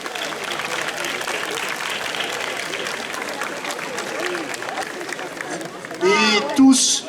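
Crowd applause for festival volunteers, a steady wash of clapping with murmuring voices underneath, ending with a louder burst of cheering and talk near the close.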